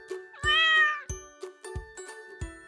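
A domestic cat gives one clear, drawn-out meow near the start, close and loud, followed by a series of soft, evenly spaced thumps with faint tinkling.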